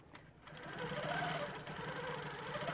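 A sewing machine stitches free-motion loops on a quilt block, starting after a brief pause and then running as a steady, fast, close mechanical whir and knocking, faint overall.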